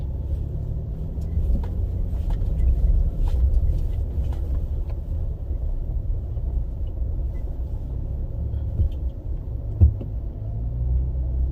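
A 2022 Nissan Frontier truck crawls across an offroad course, its engine giving a steady, close, low rumble with faint rattles and one brief knock near the end.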